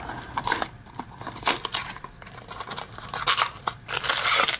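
Crinkly plastic packaging from a Matchbox 2021 Power Grabs toy unboxing is torn and handled up close, giving a string of sharp crackling rips and rustles in irregular bursts, with no talking.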